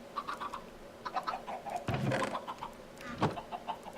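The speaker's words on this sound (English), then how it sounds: "This is a chicken farm." Chickens in a Minecraft chicken farm cluck in short, scattered bursts over a quiet hum, with a louder rustling burst in the middle and another near the end.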